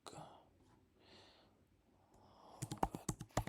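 Typing on a computer keyboard, quiet at first, then a quick flurry of sharp clicking keystrokes near the end, close and alone.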